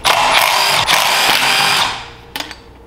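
A power tool whirs loudly while removing a carburetor adapter from a 999cc V-twin go-kart engine, running steadily for about two seconds, winding down, then giving a few short bursts.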